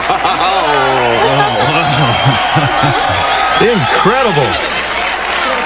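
A studio crowd cheers and chants rhythmically for Bobby Flay, loud rising and falling vocal chants close by, with a voice speaking briefly over them.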